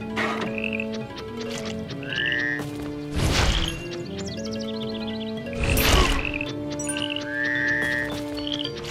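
Magic frogs in the game Gryphon Knight Epic give repeated cartoonish croaks over a looping tune with chiming notes, broken by two loud crashing hits partway through.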